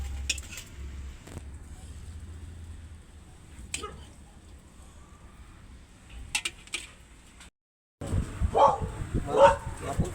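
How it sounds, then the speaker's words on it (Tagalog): Dogs bark in short, scattered bursts at a moderate distance outdoors, mixed with faint clinking of dishes and people chatting nearby. "Mga aso."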